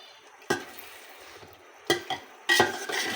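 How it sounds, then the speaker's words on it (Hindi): A pulao mixture with yogurt being stir-fried in a pot, a few distinct scraping stirs of a spoon against the metal with a soft sizzle between them, close and without talk. "बस दही के साथ अच्छी तरह इसको मैं भूनूंगी"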